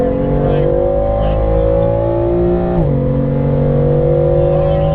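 Car accelerating hard on a road course, a loud close engine note climbing steadily in pitch, dropping at a gear shift, then climbing again.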